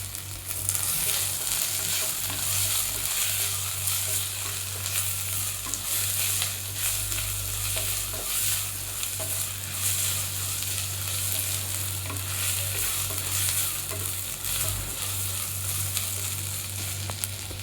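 Freshly pounded ginger garlic paste sizzles and fries steadily in a hot pan for pudina rice, with continuous loud crackling and occasional stirring scrapes throughout, no voices.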